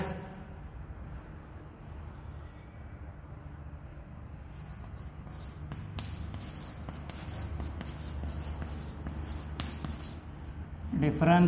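Chalk or marker scratching across a board as maths problem data is written up, a steady dry rubbing and tapping that runs under quiet background noise, with a voice joining in briefly near the end.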